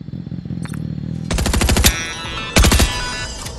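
Rapid automatic gunfire in the Fortnite video game as a player shoots targets set along grind rails, two loud bursts of fast rattling shots separated by a short pause, preceded by quieter game ambience.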